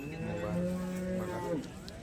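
A cow at the Sangola cattle market lets out one long, drawn-out moo, close and clear, over a faint background murmur of the market.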